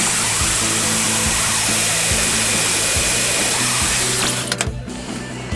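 A power tool cuts steel trim for a weld repair on a W piece, a loud steady grinding whine with a rattling pulse running for several seconds before cutting off abruptly.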